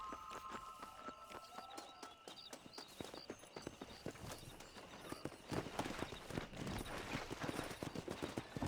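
Horse hooves clip-clopping at a steady gallop while riding in the video game Red Dead Redemption, loud and close, with a rapid rhythm that grows busier toward the end over faint game background sound.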